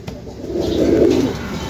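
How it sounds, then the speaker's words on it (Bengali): A pair of India White Bombay pigeons cooing nearby, one low rounded coo swelling and fading over a faint background hiss. "এই মুহূর্তে স্ক্রিনে দেখতে পাচ্ছেন ইন্ডিয়া হোয়াইট বোম্বাই এক জোড়া কবুতর"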